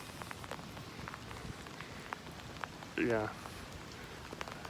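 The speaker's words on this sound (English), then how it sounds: "it's raining really good now" Rain falling outdoors, a faint steady patter with scattered distinct drops, while a person says a brief word partway through.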